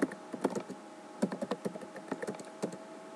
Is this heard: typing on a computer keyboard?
yes